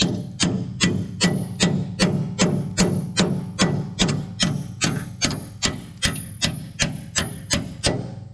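Steady hammer blows ring out about twice a second, loud and close, during repair work on a Ford 3000 tractor, with a faint mains hum underneath.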